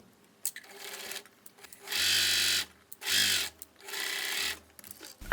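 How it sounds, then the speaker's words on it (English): Sewing machine running a zigzag stitch on folded jersey strap strips in three short, close bursts separated by quiet gaps with faint handling noises. "I'm gonna sew using a zigzag stitch"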